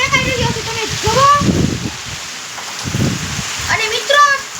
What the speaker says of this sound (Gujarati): અત્યારે દરિયા દિનોથી વરસાદ છે ને પવન તો ફૂલ ઝડપથી ફેંકાઈ રહ્યો છે